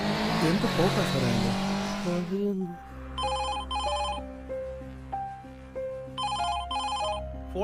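A telephone rings in a comedy skit, two clear bursts of electronic ringing tones repeating, following a loud rushing, engine-like noise at the start.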